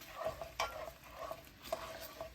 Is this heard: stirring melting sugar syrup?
yes